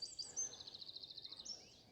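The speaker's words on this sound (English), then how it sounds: "You can see we've got a black cap, a wren, whitethroat, the geese, song thrush, and a woodpecker." Woodland songbirds in a Lincolnshire morning, such as blackcap, wren, whitethroat and song thrush, give a quick series of faint, high, rapid chirping trills from a distance in an otherwise quiet setting.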